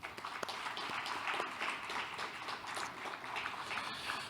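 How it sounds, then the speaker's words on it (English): Audience applause closing a discussion session at a law conference on peaceful use of the sea, a dense, steady patter of many hands clapping at moderate distance throughout, with no speech over it. "let us give all the panelists a big round of applause and our Judge ATTARD for the great session."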